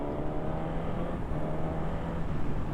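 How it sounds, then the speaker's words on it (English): A Suzuki GSX S950 motorcycle engine drones steadily at riding speed, a loud low hum with a brief dip as it shifts into third gear without the clutch, then carries on smoothly. "That's a lovely smooth gear change, isn't it? You can't tell I'm not using the clutch, can you?"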